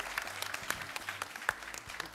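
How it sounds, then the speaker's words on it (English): Studio audience at a talk show claps in a faint, somewhat distant round of applause, a scattering of sharp individual claps over a soft bed of clapping that lasts about two seconds. "Wanna clap for them?"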